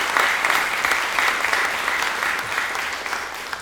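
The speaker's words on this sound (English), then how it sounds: "So one more round of applause here." A round of applause from an audience at an evening masterclass event, dense steady clapping sustained throughout, fairly loud and close, with a faint crowd murmur beneath.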